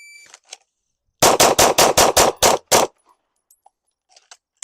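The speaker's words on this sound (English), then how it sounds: "I fired my 6 rounds" A handgun drawn from a holster in an accelerator shooting drill fires a rapid string of loud, sharp shots in close succession, followed by quiet with a few faint clinks.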